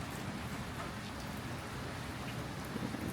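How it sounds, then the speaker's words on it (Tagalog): Steady typhoon rain falling close by, a dense, even hiss of drops on surfaces at moderate volume with no pauses or voices. "Ayan na ang ulan."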